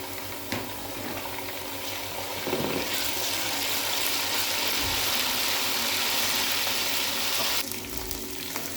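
Two tablespoons of garlic ginger paste sizzle in a hot pan of oil as it is stirred, a steady close frying hiss that grows louder midway and then eases.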